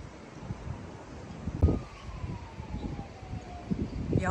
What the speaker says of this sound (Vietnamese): gió mưa bão quá